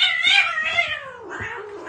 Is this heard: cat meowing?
yes